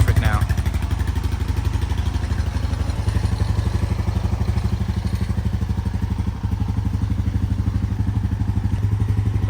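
A 1998 Honda Foreman 450S 4x4 ATV engine idles steadily up close, a loud even low thumping putter with a light mechanical clatter and no revving.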